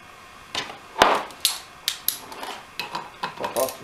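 Four Torx 40 bolts are worked loose from a small retainer cap, giving a series of sharp metallic clicks and ratcheting taps close by, irregular and spaced out, with no talk.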